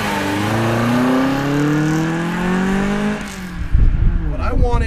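Resto-mod BMW 2002 driven on the road, its engine revving through rising gear pulls with a climbing, harmonic-rich drone, then a shift and rougher rumble, close and loud throughout.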